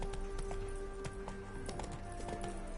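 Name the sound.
horse hooves clip-clop, from The Witcher 3 video game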